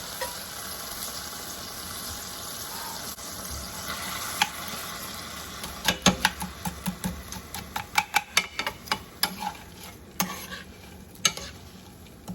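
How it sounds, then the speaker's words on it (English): Vegetables for a keto, low-carb meal prep are tossed into a pan and cook with a soft sizzle, then a quick run of sharp stirring clacks from a spoon against the pan. "Now I'm going to toss my vegetables in."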